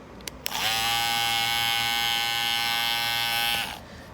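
Andis cordless T-Outliner hair trimmer switching on after a couple of clicks, holding a loud, steady electric buzz for about three seconds, then winding down to silence.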